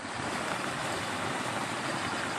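Swollen streams and rural channels rush and roar in a village during a heavy storm, a dense, steady wash of water noise mixed with wind buffeting, loud and continuous with no pauses.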